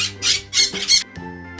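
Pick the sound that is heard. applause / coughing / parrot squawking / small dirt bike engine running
parrot squawking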